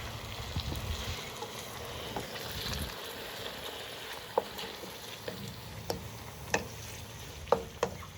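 Tomatoes frying in a pan for koyla karahi, giving a steady broadband sizzle with a few sharp clicks and scrapes of stirring scattered through, close and moderately loud, no talk.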